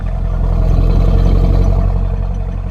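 A newly bought car's engine idles steadily after coming out of storage, a loud, close, low rumbling drone with a constant throb, heard alone without voices.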